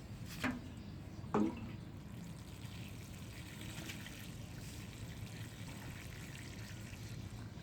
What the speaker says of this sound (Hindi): अब हम इसको पानी दे लेते हैं।